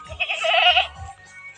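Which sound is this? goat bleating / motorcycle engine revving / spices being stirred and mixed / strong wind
goat bleating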